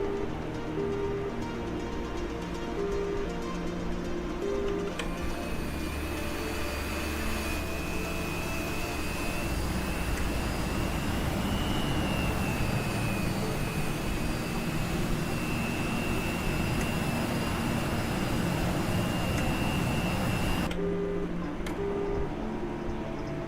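A jet aircraft engine whines steadily while taxiing in a video game, a sustained roar with a high tonal hum that holds for about fifteen seconds before cutting off.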